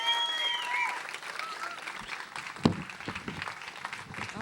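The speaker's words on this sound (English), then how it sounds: "Give them a round of applause, please." An audience applauds as panelists come up to the stage at an evening talk event, steady dense clapping throughout with a few voices and cheers mixed in.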